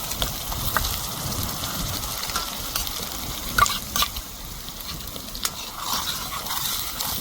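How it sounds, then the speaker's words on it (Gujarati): Onion gravy bubbles and sizzles steadily in a pan, with soft stirring scrapes now and then. The sound is close and moderately loud, and nobody speaks. "કાંદાની ગ્રેવી આપણે 4 થી 5 મિનિટ પકવશું"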